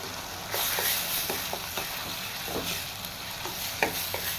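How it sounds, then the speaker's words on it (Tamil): Onion, tomato and ginger garlic paste sauté in a pan, a soft continuous sizzle broken by repeated scraping stirs of a spoon close by. "இஞ்சி பூண்டோட பச்சை வாசனை போகிற அளவுக்கு நல்லா இந்த வெங்காயம் தக்காளியோடு வதக்கி விட்டுக்கோங்க"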